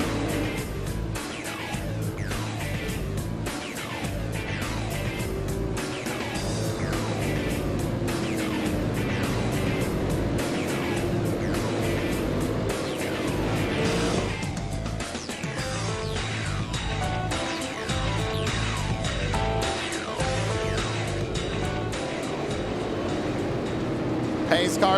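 Super Late Model race cars at Lanier National Speedway roar past steadily, engines droning loudly and continuously with repeated pass-by swells, under an announcer's voice.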